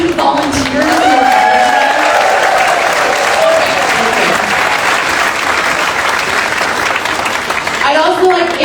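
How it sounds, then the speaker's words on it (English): Loud, sustained audience applause for event volunteers at the Harvest of the Heart 2024 gathering, dense clapping holding steady for several seconds, with voices rising over it near the start and end. "give a huge round of applause for all of our team volunteers"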